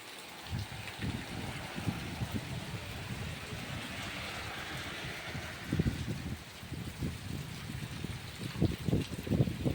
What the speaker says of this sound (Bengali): এদিকে জল বেরিয়ে যাচ্ছে সাইড দিয়ে, পাশ দিয়ে